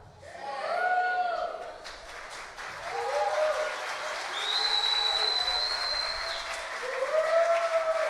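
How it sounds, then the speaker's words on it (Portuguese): An audience applauds a children's Christmas choir, with clapping swelling and holding steady, and shrill whistles and cheering voices rising over it throughout. "Isso é para que vocês repitam mais e mais o aplauso para essas crianças"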